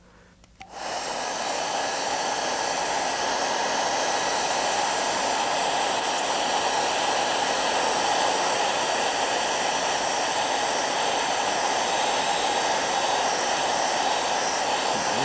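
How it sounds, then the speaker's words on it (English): A hair dryer switches on after a brief moment and blows with a loud, steady roar that continues unbroken. "Where's that hairdryer gone?"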